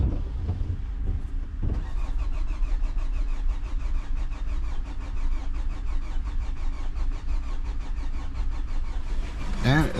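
A 2011 Hyundai Sonata engine cranks steadily without catching, the starter's fast rhythmic churn running nearly ten seconds at close range with a brief pause near the start.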